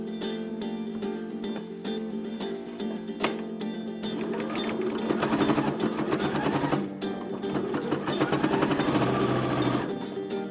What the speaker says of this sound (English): I'm going to sew all the way around my needle case, being careful to straighten the edges as I go along.